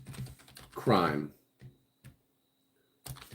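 Keys clatter on a computer keyboard in short bursts separated by pauses, fairly close, while someone speaks a word over part of the typing.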